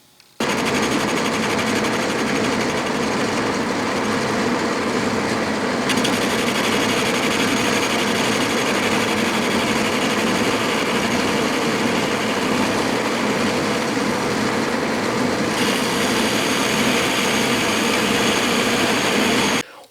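A metal lathe turning a nut held on a live center, taking a light finishing cut; a loud, steady mechanical whir with a fast rattling chatter that runs unbroken and alone, shifting slightly in tone partway through.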